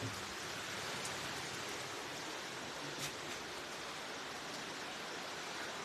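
Heavy rain falling steadily on a farm, a dense even hiss of downpour that stays constant throughout and carries no voices.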